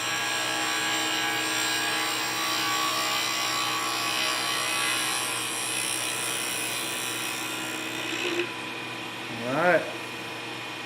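A new carbide lathe tool makes a smooth finishing pass on a cholla and resin pen blank, a steady whirring hum with a scraping edge that continues for several seconds before stopping, followed by a brief squeak.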